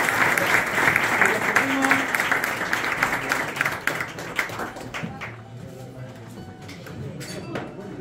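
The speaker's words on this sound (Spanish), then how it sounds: "Así que un fuerte aplauso." An audience at a flamenco club tribute to a man named Paquito breaks into loud, sustained applause that thins and fades after about five seconds, with talk rising as it dies down.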